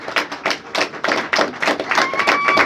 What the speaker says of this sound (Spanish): Dale un aplauso al Señor en el nombre de Jesús.